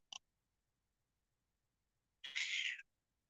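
A house cat gives one short, bright meow up close, nearly drowned out by a brief sound at the start, then a longer clear meow after a quiet pause; no purring stands out and no one speaks.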